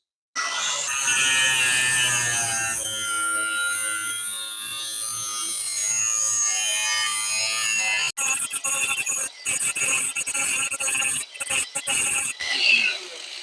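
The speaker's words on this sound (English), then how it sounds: "Grinding time." Angle grinder steadily grinding weld bead off a test piece made with cheap Temu welding rods, a loud continuous whine that later breaks into choppy, stuttering bursts as the tool contacts and lifts off the metal.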